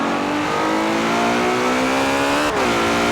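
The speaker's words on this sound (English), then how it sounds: "the 6-litre naturally aspirated V12 engine" A Ferrari 599 GTO's 6-litre naturally aspirated V12 revs loud and close in Forza Horizon 4, a steady high howl that dips briefly as it shifts and then keeps climbing.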